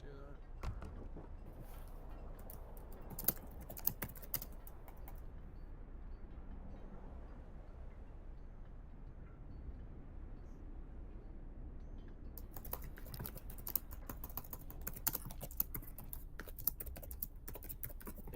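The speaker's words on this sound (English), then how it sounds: "I do kind of have the conspiracy theorist typing loudness" Rapid, loud typing on a computer keyboard, clattering in bursts close to the microphone with a quieter pause in the middle, over faint room noise during a game chat.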